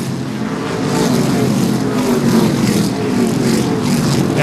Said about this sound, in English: they have got this race car working beautifully